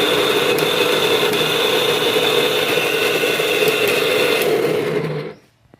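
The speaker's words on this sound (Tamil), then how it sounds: "பார்க்குற மிக்சியை பார்த்தீங்கன்னா சத்தம் அதிகமாக வருது, ஓடலை, சில டைம் நிற்கிது" A mixer grinder motor with a worn bush runs noisily and steadily with a rough, rattling whine, then stops abruptly near the end.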